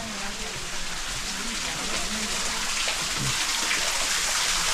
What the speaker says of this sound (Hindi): जो वाटरफॉल हो रहा था